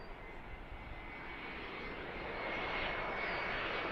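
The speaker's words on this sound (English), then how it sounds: "That's the flight from Phoenix. I think it was an A321." An American Airlines Airbus A321 jet arriving from Phoenix at Philadelphia roars steadily and grows slightly louder over four seconds, a broad continuous engine rush with no talk.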